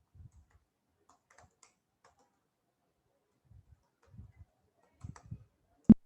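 Soft, sparse computer keyboard keystrokes while typing a narration in Tally Prime accounting software. Scattered quiet taps end in one sharper, louder key press, with no talk.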